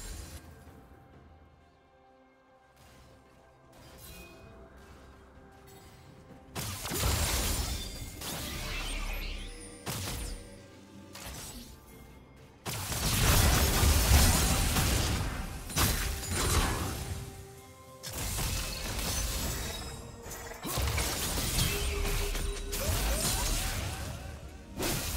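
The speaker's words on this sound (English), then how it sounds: "Blue team's turret has been destroyed." A turret being destroyed in League of Legends during a top-lane Jayce versus Renekton match: loud crashing, shattering impacts and whooshing ability effects layered over game music, with bursts of heavy collapse noise rising and falling across the stretch.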